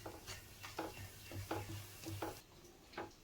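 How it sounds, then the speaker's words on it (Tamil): Mango paste is stirred in a pan on the stove, a spoon scraping the pan in a steady rhythm of soft strokes while the paste faintly sizzles, quiet and close. "அடி பிடிக்காமல் இப்படி கிளறுங்க."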